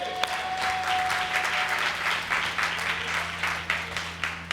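Church congregation clapping at a Sunday service, a steady wash of applause lasting several seconds with a faint tonal hum underneath.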